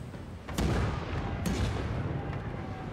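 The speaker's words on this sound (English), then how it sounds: "Your cannon fire tears through the enemy ship, splintering the hull and shredding the sills." Ship cannon fire from a sailing-era naval battle video game slams into an enemy ship, two sharp booming hits about a second apart over a rumbling battle background, with a fainter third impact near the end.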